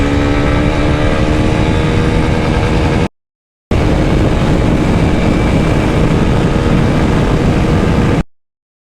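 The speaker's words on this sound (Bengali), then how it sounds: "ফার্স্ট সেকেন্ড থার্ড গিয়ার টপটা তুলে দেখায় আপনাদেরকে" Honda NX 200 motorcycle accelerating hard through first, second and third gear, a steady loud engine drone with rising harmonic whine, broken by a brief silent gap near three seconds, then resuming until cutting off.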